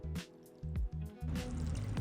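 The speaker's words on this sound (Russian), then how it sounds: "И теперь заливаем рассолом наши овощи." Salt brine being poured over vegetables packed in a jar for fermenting sauerkraut, heard as short wet glugs and splashes that stop and start, fairly close and quiet with no talk.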